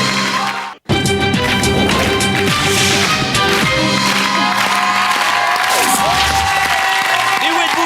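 A TV game show studio audience applauds loudly and steadily, a dense wash of clapping with some cheering that briefly drops out before surging back at full strength.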